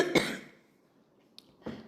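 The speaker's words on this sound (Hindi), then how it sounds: "सडनली मुझे खांसी स्टार्ट हुई है, मतलब जैसे ही मैंने ये वीडियो स्टार्ट किया है तभी से मुझे एकदम से खांसी का जैसा दौरा जैसा पड़ गया" A person coughs in a sudden fit: one sharp, close cough at the start and a second after a quiet pause.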